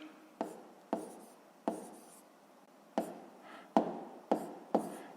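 A pen writes a name into a table on paper, giving a series of about eight sharp scratchy strokes with short quiet gaps, close and alone.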